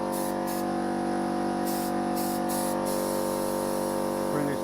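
Continuous steady hiss of compressed air released through a spray gun during an air-consumption test, with a mini spray gun or Iwata LPH80, ANI R150 or DeVilbiss SRi Pro in use, loud and unbroken throughout.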